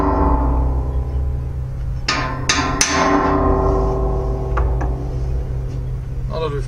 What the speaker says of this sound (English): Now that we've punched the holes